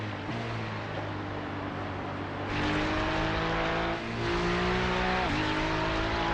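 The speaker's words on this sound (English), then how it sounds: "that Mustang sounds good" Ford Mustang race car engine in a Nurburgring 24 racing video game, a loud steady drone with engine pitch rising and shifting through gears, close and continuous with no talk.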